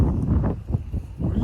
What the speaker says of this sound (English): Shoot, golly, that wind's blowing.